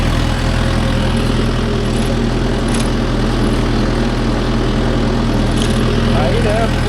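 A Mahindra Yuvo Tech Plus 585 4WD tractor engine runs loud and close with a steady low drone while pulling a five-tine cultivator, constant and unbroken throughout, with someone talking over it.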